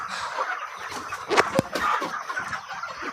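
Many chickens on a poultry farm cluck and murmur together in a dense, continuous chorus, with a couple of louder squawks standing out near the middle.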